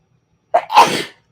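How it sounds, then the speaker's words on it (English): A single sharp sneeze, close and loud, with a quick intake of breath before the burst and quiet on either side. "oh, I'm going to sneeze"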